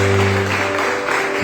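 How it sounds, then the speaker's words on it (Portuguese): A congregation claps during a lively Wednesday evening worship service in a Brazilian church, dense continuous applause over steady organ or keyboard tones, loud and close throughout. "aplaude o Senhor."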